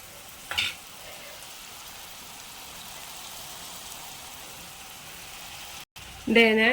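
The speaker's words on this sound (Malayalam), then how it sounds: "തക്കാളിയൊക്കെ നല്ലോണം വെന്ത് വരുന്ന വരെ നമുക്ക് പിന്നെ വെക്കാം" Tomatoes and prawn masala sauté in a pan for a Kerala-style prawn mulakittath, a steady even sizzle holding through the clip, broken by two short bursts of a voice and a brief dropout near the end.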